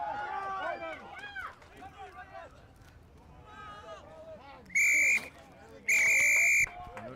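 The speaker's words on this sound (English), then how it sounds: "Two peels on the whistle." A referee's whistle at an under-19 men's rugby championship match gives two sharp, piercing blasts, close together near the end, cutting through crowd noise and a commentator's voice.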